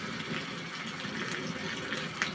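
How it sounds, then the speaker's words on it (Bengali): A little water is poured into a cooking pan of fried meat with ginger, giving a soft, steady gush and trickle up close that runs throughout. "আমি অল্প একটু পানি দিয়ে দিব।"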